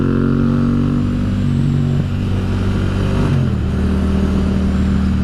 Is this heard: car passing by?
yes